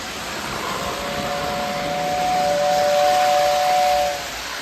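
Whistle tender of a postwar Lionel 675 toy steam train blowing a steady two-tone whistle for about three and a half seconds, loud and close over the constant whirr and hiss of the running model locomotive.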